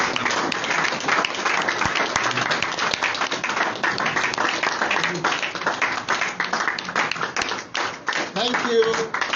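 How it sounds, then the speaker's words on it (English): A standing audience at a Yoruba Nation political gathering claps for its leader in sustained, dense applause with scattered voices mixed in throughout. "Rise up and clap for leader."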